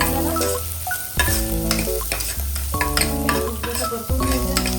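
Ginger and garlic sauté in a small amount of oil for a mushroom soup, a continuous close sizzle and stirring scrape running beneath loud, steady instrumental music.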